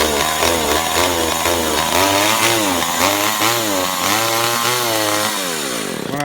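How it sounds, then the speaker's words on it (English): A chainsaw runs loud and close on the choke position, its engine rising and falling in uneven revs before winding down at the end, with no voices. "So I started it up on the choke position."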